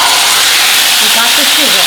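Stir-fry food sizzles in a hot oiled skillet, giving a loud, steady hiss with faint tonal squeals near the end.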